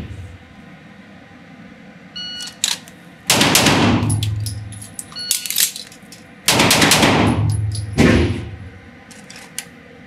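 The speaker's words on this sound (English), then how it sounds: "So take it to four shots." Sig Sauer pistol shots in quick four-round strings, two loud bursts of sharp cracks with echoing decay, separated by quieter gaps with faint background noise.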